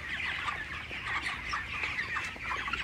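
Many poultry-farm chickens cluck and chatter in a continuous busy flock noise, moderately loud and fairly close, with no voices.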